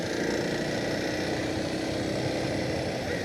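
A Kawasaki KLX 230 SM trail motorcycle being ridden during break-in, giving a steady, continuous engine drone mixed with broad wind rush for the whole stretch, with no talking.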